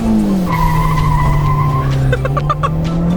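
A car launches at full throttle from a standstill, its engine holding a loud steady drone while the tyres skid and squeal, with a few sharp knocks toward the end.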